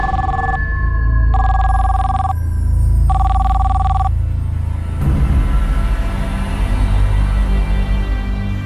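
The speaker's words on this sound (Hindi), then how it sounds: "इसी दौरान 16 अप्रैल को रजनी के पति के मोबाइल पर आए एक फोन ने पूरे परिवार को चौंका कर रख दिया।" A mobile phone rings in three clear electronic bursts with short gaps, loud and close over a low rumble, then the ringing stops and a dramatic low drone follows.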